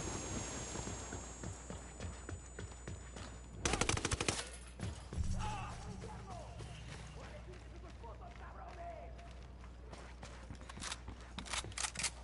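Bursts of automatic weapon fire in Ghost Recon Wildlands, a sharp loud volley in the middle followed by scattered quieter shots over ambient game sound.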